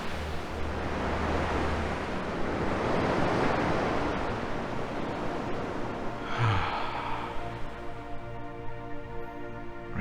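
Ocean surf rolls and washes steadily in a continuous broad rush, close and fairly loud with no talking, swelling and easing like slow breathing.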